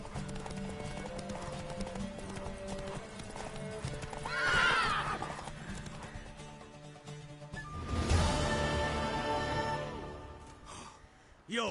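Rhythmic clip-clop of horse hooves throughout, with two loud neighs rising above it, and a faint voice underneath.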